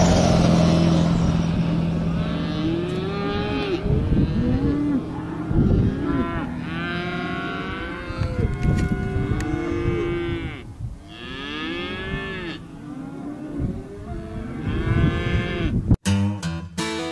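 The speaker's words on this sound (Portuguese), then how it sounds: "Nós vimos alguns cowboys americanos lidando com o gado. Uma boiada pretinha, toda padronizada, igualzinha" A herd of black cattle moos repeatedly, with long overlapping low calls from several animals near and far, loud and continuous across the whole stretch, with some vehicle rumble in the background.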